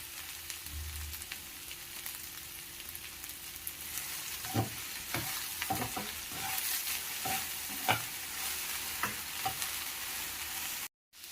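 Okra fries in a pan with a steady, quiet sizzle while a spoon stirs and scrapes, making a run of irregular clicks and scrapes in the second half, close by.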